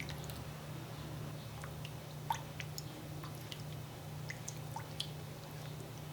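Evaporated milk is poured into melted quick-melt cheese sauce in a pan, with soft liquid trickles and small wet drips over a low steady hum, quiet and close.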